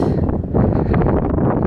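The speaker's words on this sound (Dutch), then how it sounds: "Hele harde wind en zo." Strong wind blasts steadily across an outdoor microphone, a loud, continuous roaring rumble with gusty swells and no pauses.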